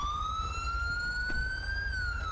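A police siren in the video game GTA 5 wails steadily and loudly throughout, a continuous rising tone over a low engine rumble, with no talking.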